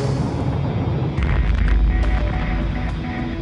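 Atmospheric nuclear test detonation, a deep sustained rumbling roar that swells into a heavier low boom with crackling bursts, then slowly tapers, loud and continuous with no voices.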